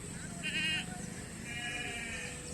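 Sheep bleat twice, a short wavering call followed by a longer one, fairly distant over a low outdoor background murmur.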